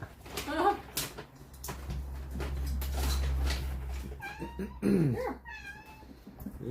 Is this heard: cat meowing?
yes